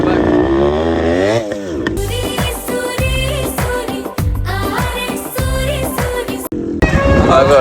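Motorcycle ridden up to parking at a village fair in Kalaburagi, its engine revving and shifting loudly and steadily throughout, with brief drops in throttle and a busy crowd-like background.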